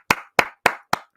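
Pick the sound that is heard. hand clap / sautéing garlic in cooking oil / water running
hand clap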